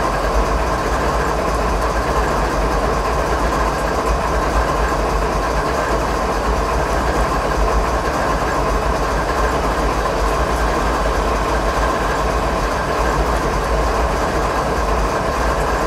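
A train in Train Simulator 2015 runs along the rails near a train yard, a steady loud rumble with a low engine drone and faint rhythmic clatter of wheels that continues without pause.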